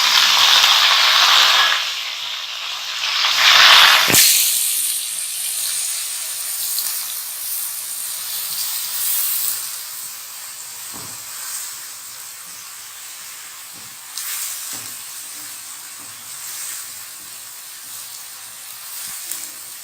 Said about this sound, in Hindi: अब मैं इसमें ये चॉप्ड प्याज जो है ये ऐड करूंगी।